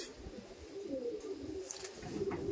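A pigeon coos softly and at a distance over quiet background noise, a low murmuring call with a faint chirp near the end.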